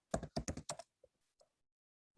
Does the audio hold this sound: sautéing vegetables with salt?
no